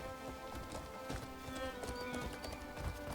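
Rhythmic hoofbeats of a horse in Crimson Desert clip-clop at a steady trot over a busy game soundscape, fairly quiet and continuous.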